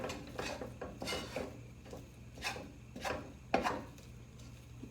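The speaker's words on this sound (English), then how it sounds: "I'm scraping it off all the sides so that I get maximum use out of all my ingredients that I put in here" Playdough being scraped off the sides of a mixing bowl by hand, a series of close, repeated rubbing and scraping strokes with an irregular rhythm, alone with no voices.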